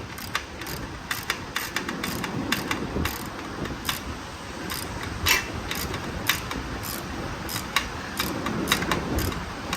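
A ratchet wrench clicks in quick repeated runs while backing out a bolt on a Harley Sportster, close and crisp over a low background hum, with no talk.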